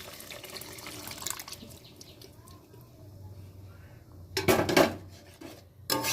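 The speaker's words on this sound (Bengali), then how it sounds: "গরম জল অ্যাড করছি" Hot water is poured into a pot of vegetable dal in a home kitchen, with a couple of short splashing bursts near the end among faint utensil clinks.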